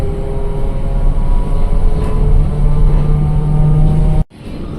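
A TransJakarta corridor 4D bus from Pulogadung at night speeds along, its engine a loud steady drone with a low hum that rises slightly before the sound cuts off abruptly near the end.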